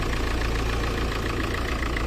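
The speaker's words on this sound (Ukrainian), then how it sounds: "Але двигун працює." An old, cheap car engine running after a year and a half in storage, a loud, steady, rough idle with a dense mechanical rumble, close and continuous.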